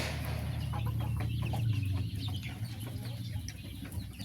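Several chickens cluck steadily in a pen, with a low constant hum underneath.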